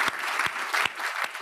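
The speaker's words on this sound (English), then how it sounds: "Could you give them all a whopping round of applause?" A live audience at the Barbican applauds a conversation panel, loud sustained clapping filling the room with sharp individual claps standing out through the short burst.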